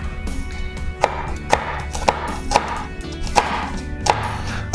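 A knife chops an onion on a cutting board with sharp, evenly spaced strokes roughly every half second, close and distinct over a quiet kitchen background.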